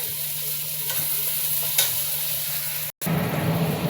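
Ginger, chilli, garlic and coconut spice paste sizzles steadily in a pan of oil for Bengali egg curry, with a spoon stirring and scraping close by, broken by a short pause.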